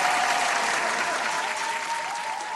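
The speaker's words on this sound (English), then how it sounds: "Round of applause for that" A crowd breaks into a steady, dense round of applause that stays loud and even for a couple of seconds before easing slightly, with no voices above it.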